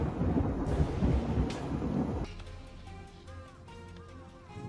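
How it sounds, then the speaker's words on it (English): Deep rolling thunder from a lightning storm over a city skyline rumbles with a rush of rain for a couple of seconds, then cuts abruptly to quieter, thinner tonal sounds. "A lightning storm lights up a city skyline, beauty and danger intertwined."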